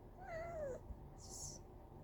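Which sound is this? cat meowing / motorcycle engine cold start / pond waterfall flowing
cat meowing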